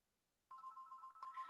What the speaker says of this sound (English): My phone's ringing in the background and I can't reach it.